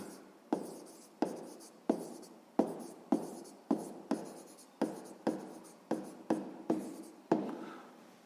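A pen writes on paper nearby and quietly in short, regular scratching strokes. About a dozen brief strokes arrive in an even rhythm, each starting with a small tap.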